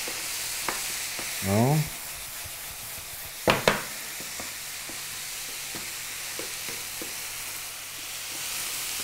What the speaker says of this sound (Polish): Już pod koniec smażenia.